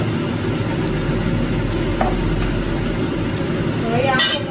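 A fried pork chop is stirred through sautéed garlic and onion in a pan, giving a dense, continuous sizzle with a few faint clinks, while a person talks over it.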